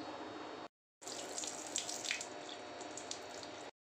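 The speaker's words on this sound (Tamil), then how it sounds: "தண்ணி ஊற்றி கழுவி வைக்கலாம்" Running tap water splashes into a cup or sink, cutting off briefly then flowing again with spattering and dripping, close by.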